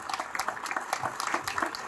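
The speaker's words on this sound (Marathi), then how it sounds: "आपण या कर्तव्यदक्ष अधिकाऱ्यांसाठी एक जोरदार टाळ्या वाजवून त्यांचं आपण स्वागत करायचं आहे" A crowd at a Shivaji Maharaj Jayanti maha-aarti in Gangapur claps to welcome officials, a lively patter of many hands with uneven bursts, moderately close and not very loud.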